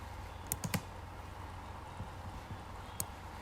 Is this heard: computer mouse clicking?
yes